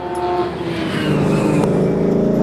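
A Ford car pulls away, its engine note steady and fairly loud close by, rising slightly as it drives off with no talk over it.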